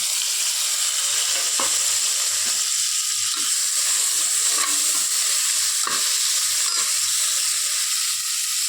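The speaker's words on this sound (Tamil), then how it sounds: "இந்த ஆனியனும் இந்த தக்காளி நல்லா ஃப்ரை ஆகிற வரைக்கும் ஒரு 5 மினிட்ஸ் ஃப்ரை பண்ணி" Onion and tomato frying in a pan, a steady close hiss of sizzling oil throughout with a few soft stirring clicks and knocks.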